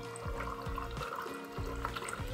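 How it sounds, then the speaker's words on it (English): Cold water flows from the nozzle of a Wonder Water 2000 dispenser, a steady close pour with a low mechanical hum underneath. "I'm gonna put in the cold water."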